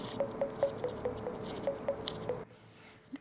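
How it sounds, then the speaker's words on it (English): Volume slider on CMF Headphones Pro headphones clicking in a quick run of light, close, evenly spaced ticks as it slides, then stopping into near silence. "I also love the sound it makes when you're adjusting the volume"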